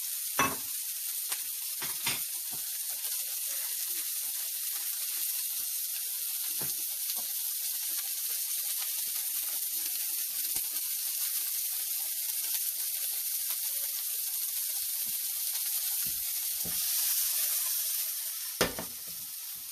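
Onions cooking over relatively high heat in a frying pan give a steady, even hiss and sizzle throughout, with a few faint clicks and taps scattered on top.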